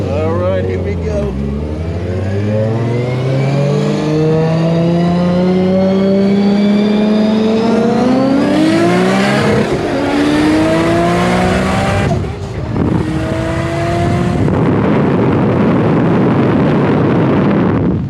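A circuit-prepped Nissan R32 GTR at a roll racing event, its engine loud and close as it revs hard through rising gears with a brief shift break, while people talk excitedly over it.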